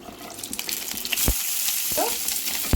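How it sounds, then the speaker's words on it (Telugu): Green chilies fry in a spoonful of oil in a pan for a radish chutney, a soft crackling sizzle with a few louder pops and stirring scrapes, close and fairly quiet. "స్టవ్ వెలిగించి పాన్ పెట్టాను ఒక స్పూను ఆయిల్ కారానికి తగ్గట్టుగా వేసుకోవాలి ఈ పచ్చిమిరకాయలు వేస్తున్నాను నేను"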